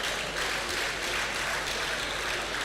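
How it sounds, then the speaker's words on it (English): Guests at a formal gathering applaud in a steady, moderately faint burst of clapping that continues evenly throughout, with no talking heard. "Please clap for them."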